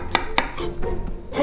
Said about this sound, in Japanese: ニンニク2かけもみじん切りじゃなくてスライスにします。